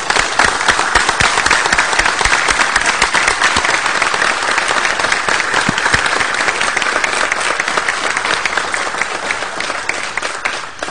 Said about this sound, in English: I would like Mr. and Ms. Thompson to stand up and take a round of applause